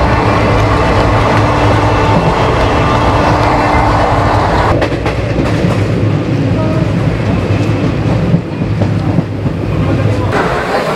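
The Shaktipunja Express runs at speed on the rails, a loud, steady rumble and roar from inside the train with rhythmic wheel clatter and rattling carriages throughout.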